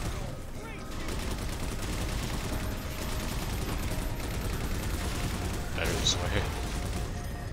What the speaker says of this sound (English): Attach the turret, because why not?